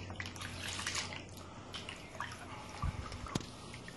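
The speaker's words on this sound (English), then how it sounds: "we're going to rinse this gold out here into this pan along with the rest of this finer material" Water rinsing gold concentrate and fine material into a gold pan outdoors during a field test, a continuous close pouring and splashing with scattered drips and a couple of small knocks.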